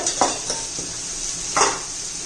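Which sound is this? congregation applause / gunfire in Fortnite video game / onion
onion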